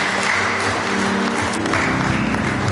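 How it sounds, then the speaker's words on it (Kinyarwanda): A church congregation applauds in a sustained, dense wash of clapping that fills the whole stretch, steady and fairly loud with a faint murmur of voices beneath. "dukomere Imana amashyi cyane."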